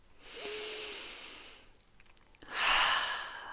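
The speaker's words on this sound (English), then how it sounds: "I invite you to join me as ever for a landing, grounding breath" A slow, deep grounding breath taken close in a quiet room, an airy inhale followed after a pause by a longer, louder exhale.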